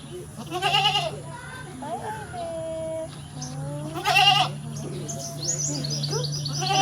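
A goat bleats in short wavering calls, close and fairly loud, while people talk and small birds chirp in the background.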